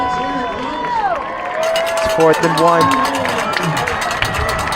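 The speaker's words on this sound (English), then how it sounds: "The crowd is electric in here. Everyone very, very loud." Loud, roaring home crowd fills the stands at a varsity high school football game, Lakeside vs. Lake Hamilton, before a fourth-down play, a steady wall of cheering with a rising swell as an announcer talks over it.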